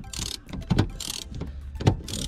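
A ratchet clicks in short, rapid bursts while breaking loose the seat bolts on a Dodge Challenger, close and fairly quiet, with pauses and some clunks of effort between strokes.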